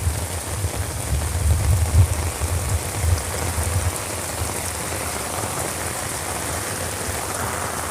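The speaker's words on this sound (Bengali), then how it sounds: "বৃষ্টি আসছে।" Rain pours steadily onto a flooded road in Chilahati, a dense continuous patter and wash of water, heavier in the first few seconds and then settling into an even hiss, with no talking.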